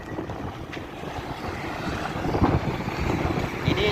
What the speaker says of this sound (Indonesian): Kalau di pinggir jalan ya anginnya kencang banget nih.